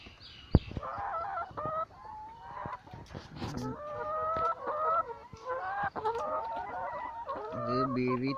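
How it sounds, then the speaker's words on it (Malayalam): BV380 chickens in a backyard farm coop, clucking repeatedly with drawn-out crowing calls near the microphone, scattered knocks and rustles between calls, with faint talk in the background. "BV380 എന്ന് പറയുന്ന കോഴിയാണ്"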